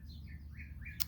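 Birds chirp outdoors beside a pellet grill, a few thin rising tweets over low background rumble, fairly faint and distant.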